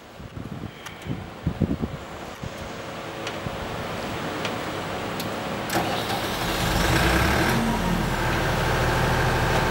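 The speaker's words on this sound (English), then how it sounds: "we start the generator now." A super silent 50 kVA diesel generator set starts up outdoors, its engine catching after a few sharp knocks and settling into a steady, broad running drone that grows slightly louder and holds over wind-like background noise.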